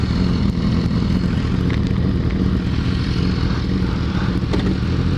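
A Kawasaki Ninja ZX14R sport motorcycle engine drones steadily while riding, with heavy wind rumble buffeting the microphone throughout and no talking.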